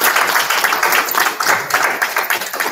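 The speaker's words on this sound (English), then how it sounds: "So we can give a round of applause for the House of" A meeting crowd applauds the House of R.A.M. with dense, steady clapping that stays loud and continuous throughout, close and filling the room with no voices on top.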